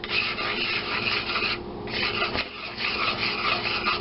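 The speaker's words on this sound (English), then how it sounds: "And we take our little whisk thing" A small whisk scrapes and rubs steadily through flour and paprika in a bowl for schnitzel coating, a close, continuous gritty swishing with one brief pause partway through.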